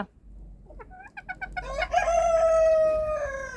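A bantam hen calls loudly and close: a rising series of short clucks that swells into a long, drawn-out squawk.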